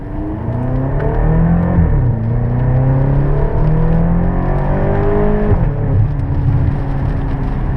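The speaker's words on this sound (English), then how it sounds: "So it's a 555 horsepower twin turbo V8." A BMW X5 M's 555-horsepower twin-turbo V8 drones steadily while driving on a highway, engine tone rising and falling through gear changes, loud and continuous with no talk.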